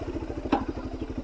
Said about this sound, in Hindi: Let's get on the bike and start it.